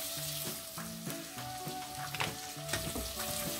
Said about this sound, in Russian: Пока колбаска с луком и чесноком обжаривается